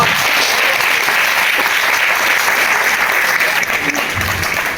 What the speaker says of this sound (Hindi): बस आपके तालियों में जोर होना चाहिए।